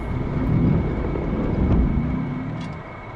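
Jet aircraft engine spooling up for takeoff in the DCS flight simulator, a loud, steady low roar with airy rushing noise that swells and then eases slightly toward the end.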